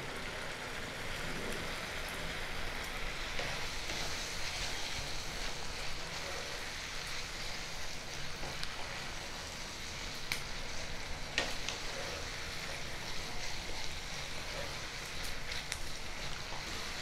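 Fenugreek leaves and spice masala sautéing in a pan for methi aloo dum give off a steady, quiet sizzle and crackle, with faint stirring scrapes throughout.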